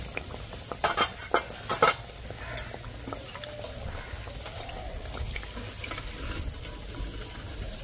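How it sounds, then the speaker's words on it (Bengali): Potato and flour snacks fry in oil in a home kitchen, giving a steady low sizzle with a few sharp clinks and scrapes of a utensil turning them early on, and no talking. "খুব ভালো করে উল্টে পাল্টে ভেজে নিয়েছি"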